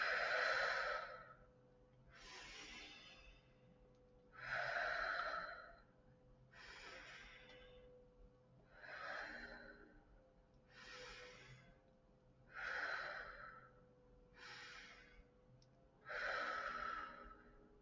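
Slow calming breaths during a finger tracing exercise in a lesson, close and soft, with about eight long airy breaths coming in an even, unhurried rhythm and quiet gaps between them.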